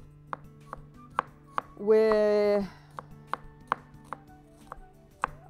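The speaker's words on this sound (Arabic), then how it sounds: "فخليني أنا أخد شوية البصل اللي أنا عايزاهم أخرطهم" Onions being chopped with a knife on a board in a home kitchen for an Indian-style dish, a steady series of sharp, close chops with a brief louder burst partway through.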